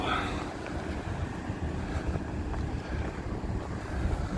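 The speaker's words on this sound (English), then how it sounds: "The wind has picked up a little bit." Wind blows outdoors at night in Las Vegas, buffeting the microphone with a continuous low rumble and roar that stays steady throughout, with no speech.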